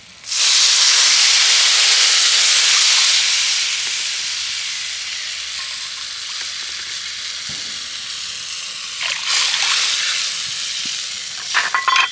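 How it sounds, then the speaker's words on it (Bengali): Water poured into a hot pan of dried chillies sends up a loud, sudden hiss of steam that gradually eases into a steady bubbling sizzle, with a few clinks of stirring near the end and no voices. "এবার এর মধ্যে দিয়ে দেবো আমি জল তো এই বাটির মাপে আমি দু বাটি জল দিয়ে দিচ্ছি"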